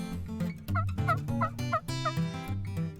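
A wild turkey gobbles loudly several times in quick succession in the morning during a turkey hunt in Copiah County, Mississippi, each call a rattling, bubbling burst ringing out in the open.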